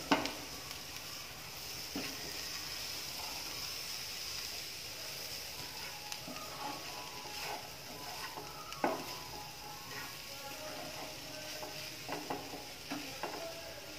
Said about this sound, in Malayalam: നന്നായിട്ടൊന്ന് ഇളക്കി നമ്മുടെ മസാലയിലൊക്കെ ബീഫിലോട്ടേക്ക് പൊതിഞ്ഞ് വരണം